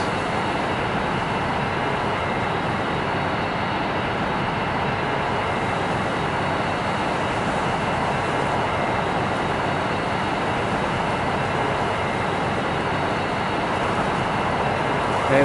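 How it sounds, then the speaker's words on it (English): Airplane engines in the PS5 game Aeroplane Flight Simulator Evo make a continuous, even broadband roar that holds steady throughout, with no talk over it. "So at least there is different sounds in the planes."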